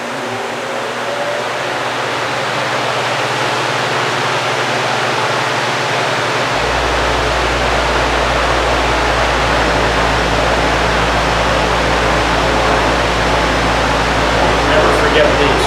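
Four large cooling fans blowing in a motorcycle dyno room, a constant loud rushing roar, with a strong low hum added partway through as another fan switches on, running steadily to the end.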